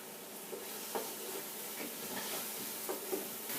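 Onions sautéing in olive oil in a soup pot, a soft, steady hiss of gentle frying with a few faint stirring scrapes, low and close, no voices.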